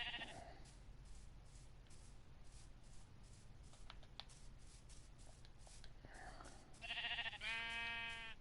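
A Minecraft sheep bleats near the end, a wavering nasal cry rising out of quiet shuffling and clicking sounds, with soft background noise before it.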